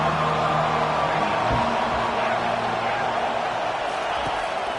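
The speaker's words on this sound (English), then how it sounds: "Defense has him pinned back, and listen to this crowd roar." An Ohio State football stadium crowd roars in a dense, continuous wall of noise, with an announcer's voice carrying over it.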